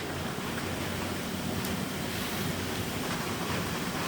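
Maple sap boils hard in a sugar shack evaporator, a loud, steady, dense roaring bubble and hiss that fills the space without a break.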